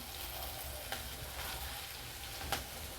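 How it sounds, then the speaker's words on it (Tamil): Onions sautéing in a pan for ragi kara dosai, a faint continuous sizzle with a couple of light stirring clicks, quiet and with no voices. "வெங்காயம் வந்து பாருங்கள் கொஞ்சம் நல்லா வதங்கிடுச்சு"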